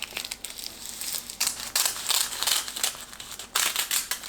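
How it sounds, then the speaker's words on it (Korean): Dried seaweed sheets for kimbap being cut into pieces, a run of close, crisp crinkling snips and crackles in irregular bursts, with no talking. "김밥용 김을 4등분 해서 길이를 반으로 잘라주세요"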